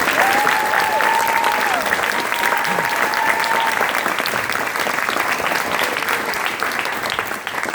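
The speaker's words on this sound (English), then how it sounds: "please join me in giving all of these people a huge round of applause." A graduation audience at an international school's IB diploma ceremony breaks into sustained applause, dense and continuous clapping that fills the hall, with a few faint cheers early on before it slowly eases toward the end.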